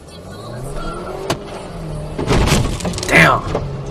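A car crashing into another car, caught on a dashcam: a sharp impact with crunching and breaking sounds amid road noise, with a voice speaking over it.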